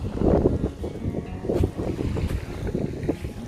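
Strong wind roars and gusts across the microphone in a steady, buffeting rush on Khlong Nin beach, Koh Lanta, Krabi, with no voices.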